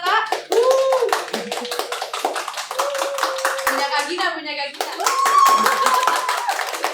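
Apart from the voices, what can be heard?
people clapping to vote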